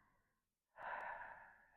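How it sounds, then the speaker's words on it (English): Breathing during a core workout for low back pain: a soft breath, a brief pause, then a louder, longer exhale that fades slowly, heard alone and up close. "Inhale, exhale, control it back."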